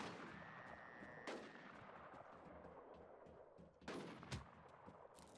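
Two sharp, loud gunshot bursts cut through a busy, noisy soundscape in the video game Infestation: The New Z, with a few fainter distant shots scattered between them.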